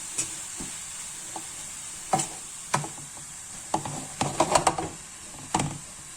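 Apple pieces with sugar and vanilla sugar caramelize in a pan. A steady high sizzle runs throughout, broken by several sharp scraping and clinking stirs near the microphone, with no talking.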